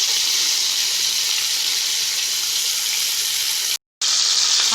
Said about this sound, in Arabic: انا بقى هحاول اقفل انسجه الموزه كلها كده زي ما انتم شايفين على النار، واسيب النار عاليه